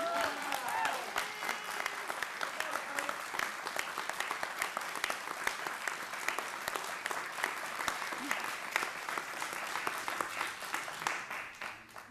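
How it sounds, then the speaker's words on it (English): Sustained applause from an audience at a council meeting during a 2024 award presentation, steady dense clapping for about twelve seconds with no clear talk on top. "Can I have a big round of applause,"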